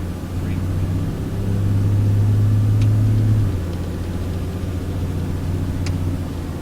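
Turbocharged car engine held at a steady drone while being tuned for wastegate adjustments, swelling slightly louder in the middle before settling back, with faint clicks on top and possible voices underneath.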